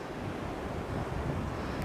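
Sea waves with whitecaps break on a Spanish beach, a steady rushing surf mixed with gusty wind buffeting the microphone, continuous and fairly loud without any voices.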